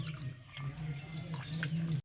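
Water splashes and trickles while simul flowers are rinsed in a container, a close, continuous wet sloshing with a low hum beneath, cutting off abruptly.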